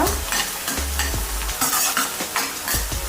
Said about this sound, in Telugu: ఆనియన్స్ చక్కగా ఫ్రై అవుతాయి కదా